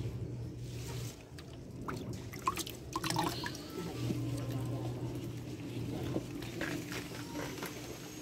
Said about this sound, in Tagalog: Kuha muna ako ulit ng tubig.